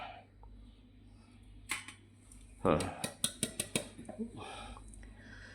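Spoon scraping and clinking against a pan and dish as tea masala spice mix is scooped out, a rapid series of sharp metallic taps after a few scattered clinks, with faint voices in the background.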